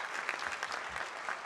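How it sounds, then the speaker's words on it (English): Graduation convocation audience at Harvard Graduate School of Education applauding the class of 2016, a steady faint wash of many hands clapping at a distance with no voices over it. "Give them a big round of applause."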